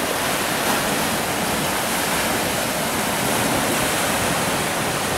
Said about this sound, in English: The sea's a little rough this morning